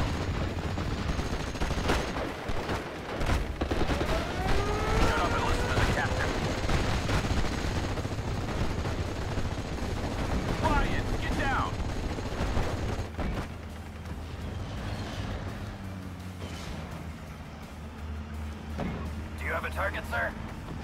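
Artillery barrage from Steel Division: Normandy 44 gameplay, with dense overlapping booms and gunfire rumbling continuously for about twenty seconds, loud and steady, while voices talk over the din.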